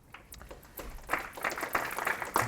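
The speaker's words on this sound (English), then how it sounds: "We have an audience that claps beforehand" Audience applause at a Harvard i-lab startup talk, with scattered claps at first, then a fuller burst of clapping that holds steady and fairly close for the remaining couple of seconds, with no voices over it.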